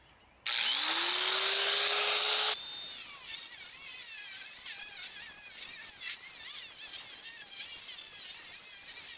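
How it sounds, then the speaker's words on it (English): A cutoff wheel spins up with a rising whine and then bites into a metal panel laid over 2x4s during an outdoor rabbit hutch build. It first gives a loud, high grinding screech, then settles into a steady, rasping cut that lasts several seconds. "I have 2x4s underneath this so my cutoff wheel doesn't go into the dirt."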